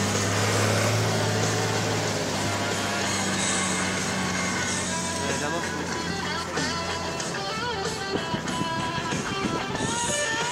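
A 600-horsepower V8 engine in a unique three-wheel-drive monster truck at a stunt show, running as a loud, continuous, throaty drone that holds steady for the whole stretch.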